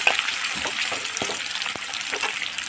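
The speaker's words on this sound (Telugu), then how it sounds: "మనం సన్నగా కట్ చేసిన ఉల్లిపాయలు ఉంటాయి అవి వేసుకోవాలి ఉల్లిపాయలు కూడా మంచిగా వేగాలండి" Thinly sliced onions for a mushroom curry fry in a pan with a dense, continuous sizzle and a few sharp stirring clicks, close and steady, with no speech.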